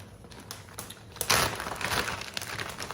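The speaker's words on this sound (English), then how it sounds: "we are going to put them in a plastic bag" Roasted chiles go into a plastic bag for steaming in a home kitchen, the bag crinkling and rustling nearby in short bursts, with a louder crumpling surge midway.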